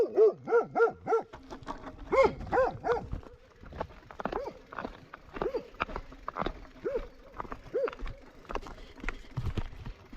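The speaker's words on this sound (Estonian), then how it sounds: "Koer." A dog barks repeatedly in a series of quick, close yaps, then keeps up scattered fainter barks. Footsteps or hoof-like clopping sound alongside, and the setting is outdoors during potato planting.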